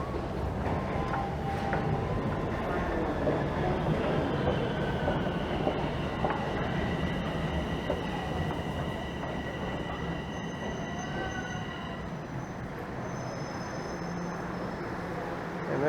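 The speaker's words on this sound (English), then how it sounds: "And there's a northbound train." Toronto subway train at Wilson Station platform, a steady loud rumble of cars running through with metallic wheel squeals and sustained high screeching tones, continuous for the whole stretch without talk.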